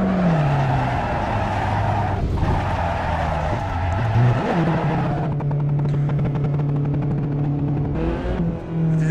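A Ferrari 458 engine drives at Silverstone in Assetto Corsa, loud and constant, its revs climbing and dropping through gear changes with brief tyre scrubbing, no voices.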